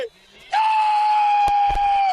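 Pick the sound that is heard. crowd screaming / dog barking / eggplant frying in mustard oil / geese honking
crowd screaming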